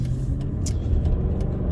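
Mercedes-Benz CL500 driving on the road, heard from inside as a steady low engine and road rumble with a few faint higher clicks, no voices.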